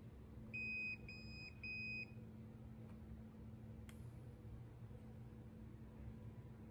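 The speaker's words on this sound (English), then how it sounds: "You do have to hold it down until it beeps." Two short bursts of high electronic beeping from a Breo iSee M heated eye massager near the start, then quiet room hum with a brief click later.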